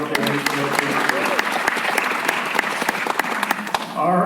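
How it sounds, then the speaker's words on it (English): Audience applause at a charity event in Hollywood, a dense steady clapping crowd lasting several seconds with a voice briefly heard at the end. "one more round of applause for Diana and all the work that she's doing"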